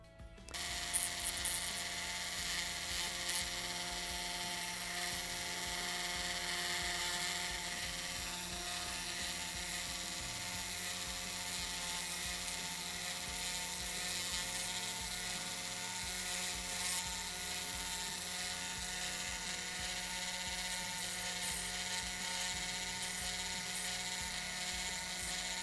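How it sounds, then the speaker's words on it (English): A Dremel rotary tool lightly files the edge of an acrylic fang, giving a steady high-pitched whine that runs without a break at close range, with no talk. "take my Dremel and just lightly file this edge here"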